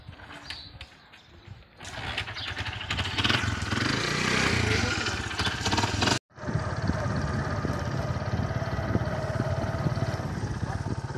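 A motorbike engine revs up and runs steadily as the bike heads off toward the fields in a rural village, loud and close, with birds chirping in the background; a brief dropout interrupts it midway.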